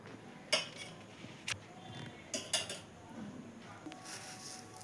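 Sugar spooned into beetroot juice: a few light, sharp clinks of a spoon against a glass or jug, spaced out over a quiet room-tone background.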